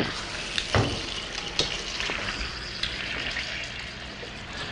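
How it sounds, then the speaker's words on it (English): Lamb sizzles loudly in hot olive oil, a constant crackling hiss with a few sharper pops and spits, close by. "It's been giving our olive oil time to heat up. Oh, yeah. That's going to sizzle."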